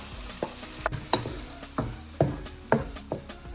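A spoon stirs seafood pasta sauce made with canned tomato sauce in a pan, giving repeated scraping strokes about every half second over a low, steady simmering sizzle, close and fairly loud.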